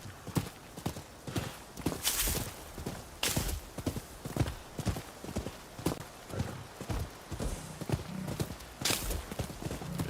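Horse hooves clip-clopping at a steady gallop in the video game Rise of the Ronin, loud and close, with brief snorts and game sounds mixed in.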